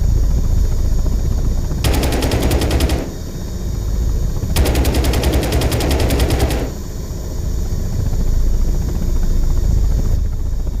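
Attack helicopter machine gun fire in the video game Impact Storm: two long, loud rapid bursts over the steady thrum of rotor and engine noise.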